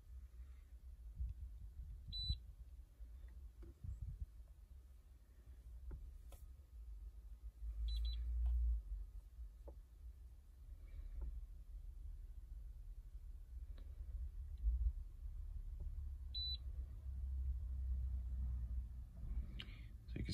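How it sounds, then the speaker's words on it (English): An OBD diagnostic tool scanning a 2009 Porsche gives three short, high bleeps spaced a few seconds apart. A low rumble runs underneath and a few faint knocks and clicks are scattered through it. "So you can kind of hear it bleeping over there."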